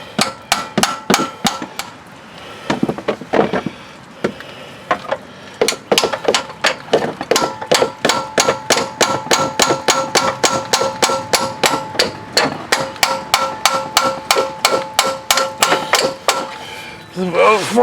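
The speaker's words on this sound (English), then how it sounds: "and just hammer it home." A socket and extension being hammered onto a crankshaft position sensor area of a 2007 Buick Lucerne 3.8: a long run of sharp metallic hammer strikes, loud and close, irregular at first then steady and rapid.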